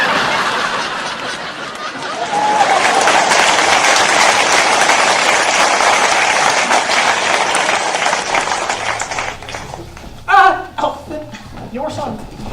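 Crowd of an audience at a town debate clapping and cheering loudly and steadily, with laughter and scattered whoops mixed in, then fading to a few louder shouts and chuckles near the end.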